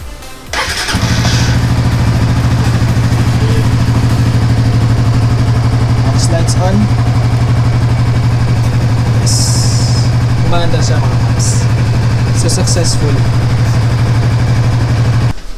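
A Suzuki GSX-S150 motorcycle engine starts after a brief crank and settles into a steady, loud, close idle with a strong low hum that holds to the end, while a few faint clicks and a short high whine sit above it.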